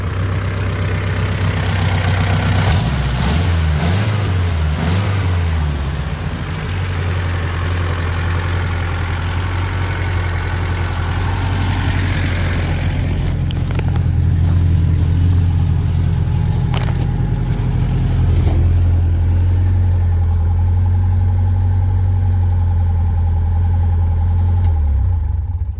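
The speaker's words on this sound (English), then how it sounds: "it runs, but I need to get the fast idle figured out so that when I give it gas, the RPMs don't stay up." A 1972 Toyota Corolla TE28 wagon engine runs and idles, a loud, steady low rumble throughout, with a brief revving surge early on before it settles back to a steady idle.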